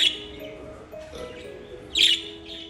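An eight-month-old English budgie gives soft, close chirps and squawky tweets, with a sharper burst near the end, alone in a quiet indoor room.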